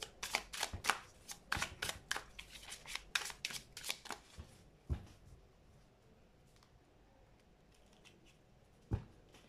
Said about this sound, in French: J'ai tiré 2 cartes pour des détails.